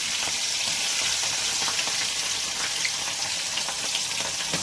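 Chilies frying in hot oil for poha chivda give a steady, dense sizzle with fine crackling pops, close and continuous throughout with no talking.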